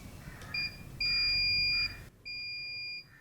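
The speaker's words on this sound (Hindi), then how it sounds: "ये फायर डिटेक्टर, जब बैंक में कभी भी आग लग जाती है तो बंदे जो है वो अलर्ट हो जाएंगे बजर की मदद से" A fire detector buzzer alarm in a bank sounds in three steady electronic beeps, short then long then medium, shrill and clear with no voices.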